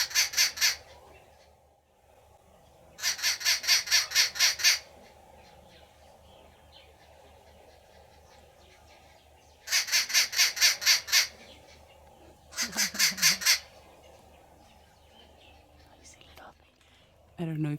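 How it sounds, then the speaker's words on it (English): Morning birds in Hwange National Park give four loud bursts of rapid, repeated calls, each lasting about a second or two, separated by quieter stretches of low background noise. "Morning wake up call from the birds."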